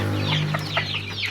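Young chicks being fed, giving short, high chirping calls in quick succession over a steady low hum.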